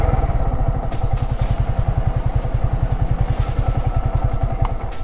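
A Yamaha R15 V3 motorcycle engine runs close and loud with a fast, even chain of exhaust pulses and a few sharp ticks and thumps.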